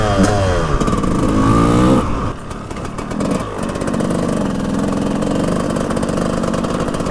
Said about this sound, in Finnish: Täällä sitä mopoillaan pikkuserkkujen kanssa.